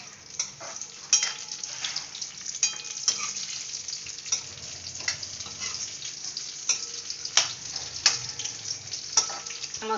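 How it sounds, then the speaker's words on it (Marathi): Pieces of bombil, Bombay duck fish, frying in hot oil, producing a close, continuous crackling sizzle dotted with sharp pops and spits, with occasional stirring sounds and no voices. "आता आपण त्यांना तेलामध्ये सोडायचे."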